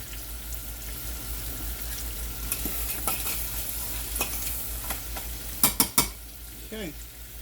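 Flounder fillets fry with spices and lemon in a pan, giving a steady close sizzle throughout, with a few sharp clinks and scrapes near the end.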